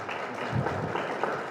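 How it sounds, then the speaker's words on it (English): Audience clapping at a DevOps panel discussion during a community tech conference, a short steady burst of applause from a room full of people. "A round of applause."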